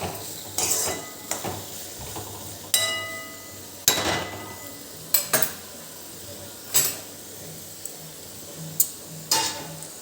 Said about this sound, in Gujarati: થોડીક એની અંદર ખાંડ એડ કરી દઈશું અને હલાવી લઈશું